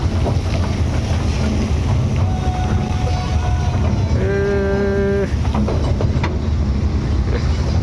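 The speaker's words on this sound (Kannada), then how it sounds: "ಇಲ್ಲಿ ಇನ್ನೊಂದು ಬೋಟ್ ಹೋಗ್ತೈತೆ" On an outdoor lake ride with wind buffeting the microphone, a moving boat churns water in a constant loud rumble, with a sustained whistle-like tone rising partway through and a toy train running nearby.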